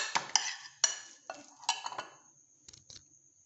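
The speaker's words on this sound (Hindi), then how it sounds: "देख लें मिक्सिंग अच्छी से प्रॉपर होगी, हर चीज़ आपस में हो जाएगी, जुड़ जाएगी" A metal spoon stirs and scrapes spice paste for fried fish in a bowl, giving sharp clinks and scraping strokes in an irregular rhythm, close and fairly quiet, with no talking.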